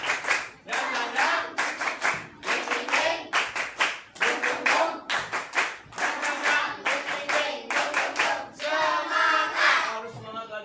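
A group claps together in a fast, repeating rhythm, the tepuk semangat cheer, in an Indonesian classroom or training session. The sharp bursts of hand claps come in tight patterns with brief pauses between them, loud and close, with a few voices mixed in.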